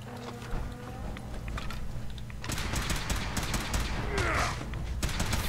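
A missile launcher firing in Fallout 4, with a rush of launches and blasts that thicken into a dense, crackling roar partway through, amid clattering combat noise and faint talk.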